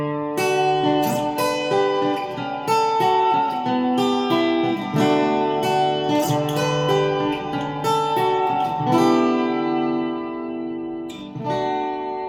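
A Natasha Asteroid smart guitar plays its strum effect: bright electric guitar chords strummed in a quick, continuous rhythm, loud and clear, with no talking.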